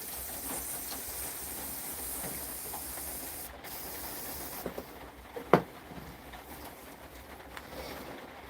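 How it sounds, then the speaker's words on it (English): Electrical contact cleaner hisses from a spray can onto a switch during a repair, a faint steady spray in a quiet room, with a few small clicks and taps toward the end. "That's electrical contact cleaner, just in case you're wondering."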